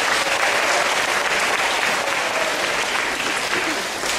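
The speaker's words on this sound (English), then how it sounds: "Clap if you could do that." An audience at a school anti-bullying assembly claps steadily and loudly, a dense, even wash of applause filling the whole stretch without easing.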